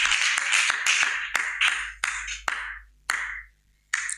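Scattered applause and cheering from a church congregation, a burst of claps with several sharp individual claps that thin out and fade, ending with a single late clap.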